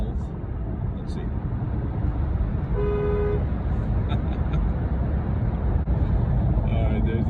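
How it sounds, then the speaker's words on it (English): Car horns honk inside a road tunnel, a short steady toot in the middle and fainter beeps toward the end, all over a loud, constant roar of echoing traffic. "Do people still honk in tunnels?"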